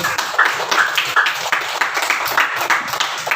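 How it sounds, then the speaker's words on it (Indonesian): A group of people in a classroom-style training session claps their hands in a quick, fairly steady rhythm, loud and close, with individual claps standing out. "Oke, tepuk tangan dulu untuk"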